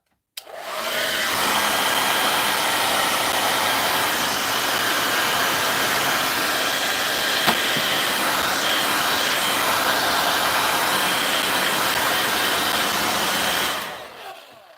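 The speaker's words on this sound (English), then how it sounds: "I'm going to use my hairdryer. It's going to be loud." A hair dryer blows with a steady, loud whooshing roar that holds constant for about thirteen seconds, then cuts off.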